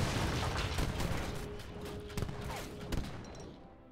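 Cannons firing in a match of Age of Empires III, a dense fusillade of repeated booms and gunfire cracks at moderate distance, with a few sharper reports near the end and no voices.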